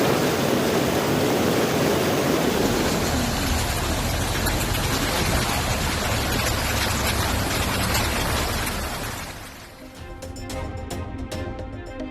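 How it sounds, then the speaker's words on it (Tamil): Sida Falls in Jharkhand in monsoon flood, a loud, steady roar of rushing water that continues for most of the time, then thins out near the end. "ஜார்க்கண்டில் தீவிரமடைந்திருக்கும் பருவமழையால் சிடா அருவியில் வெள்ளப்பெருக்கு."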